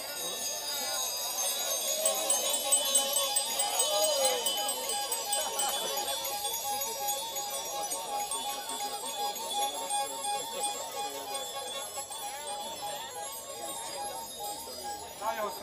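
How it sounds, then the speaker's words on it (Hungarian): Several bicycle bells ring and tinkle together in a busy, overlapping jangle at a Critical Mass group bike ride, with voices chattering underneath throughout. "kinek milyen csengője van"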